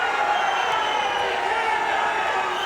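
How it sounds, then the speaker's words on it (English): Soccer crowd at a college men's match murmuring and jeering in a steady, dense roar of upset voices, with no single shout standing out. "crowd's getting a little upset here"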